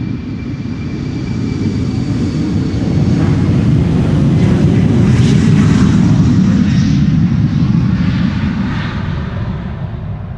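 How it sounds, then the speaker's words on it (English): KLM flight 1151, an airliner bound for Trondheim, departs Schiphol Airport with a loud, steady jet engine roar that swells slightly toward the middle and holds throughout, distant and unbroken, with no voices. "next up, KLM Flight 1151 going to Trondheim"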